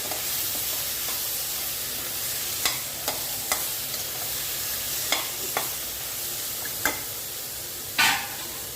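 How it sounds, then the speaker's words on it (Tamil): Ingredients with tamarind sautéing in oil for a green gram and rice dosa premix, a constant close sizzle broken by several sharp spatula scrapes and taps against the pan. "இப்போ கொஞ்சம் எண்ணெய் விட்டு வதக்கிக்கலாம் நல்லா வதங்கணும்"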